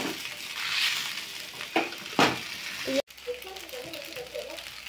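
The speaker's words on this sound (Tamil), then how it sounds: "நம்ம இப்ப சிக்கன் மசாலா போட்டுக்கலாம். இப்போ அதை கிண்டிக்கலாம்." Chicken masala frying in a pan while being stirred, a soft sizzle broken by a few scraping strokes and clatters of the utensil, then a quieter crackle after a brief cut, close up.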